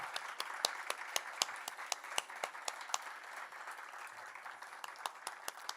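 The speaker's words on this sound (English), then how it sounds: "The applause goes on." At an arts showcase and anthology launch, an audience applauds after a spoken monologue: a soft, scattered bed of clapping with sharp, regular individual claps standing out near the listener.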